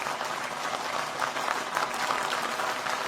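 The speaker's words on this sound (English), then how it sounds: "Let's give a big round of applause to Karthik for that." An audience applauds at a community meetup, steady dense clapping from a crowd filling the whole stretch without pause, moderately distant and even in loudness.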